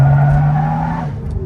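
A BMW 325d E90 LCI diesel, stage 2 tuned with a full stainless exhaust, drones loudly and close, its steady engine tone holding pitch then easing off near the end, with no talk over it.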